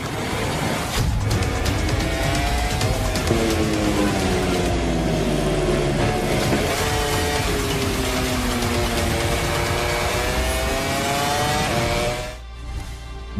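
Racing motorcycles from MotoGP 24 roar past in a steady, loud blend of high-revving engines, pitch climbing and falling through gear changes for over twelve seconds before cutting off abruptly.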